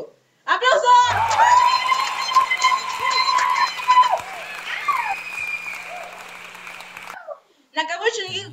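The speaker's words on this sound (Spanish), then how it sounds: "¡aplausos!" Applause erupts at an anime and manga awards ceremony as a mangaka winner is announced, a dense steady crowd clapping that swells loud and fills about six seconds, with a voice and music heard around its start and end.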